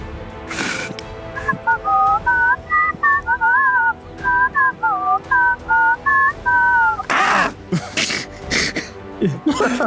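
A person whistles a wavering, hesitant tune for several seconds, with short breathy bursts and throat noises before and after.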